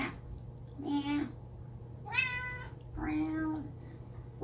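House cat meowing for treats, three distinct drawn-out meows spaced about a second apart, close and clear over a low steady hum.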